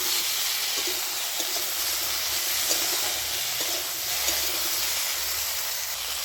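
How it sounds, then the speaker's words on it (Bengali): Mango and okra sautéing in a pan with dried chili and five-spice tempering, a constant dense hiss and sizzle with faint low rumbling underneath, close and unbroken, no voices. "আম আর ভেন্ডিটা ভালো করে আমি কষিয়ে নেব।"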